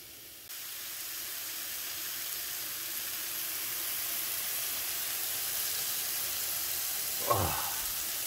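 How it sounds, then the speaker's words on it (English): A steady, bright sizzle of cheesesteak meat frying on a red-hot iron griddle fills the clip, with a brief soft clink near the end. "Listen for that sizzle and just let it cook."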